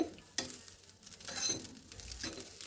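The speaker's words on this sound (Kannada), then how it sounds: "ನೋಡಿ, ಆರೆಂಜ್ ಸಿಪ್ಪೆ ಸ್ವಲ್ಪ ಹೊತ್ತು ಹುರ್ಕೋಬೇಕು. ಒಂದು ಸ್ವಲ್ಪ ಕೆಂಪಾಗ್ತಾ ಬರುತ್ತೆ." Orange peel roasts in a pan with a quarter spoon of oil, giving a close, continuous sizzle with stirring scrapes and a sharp utensil clink near the start.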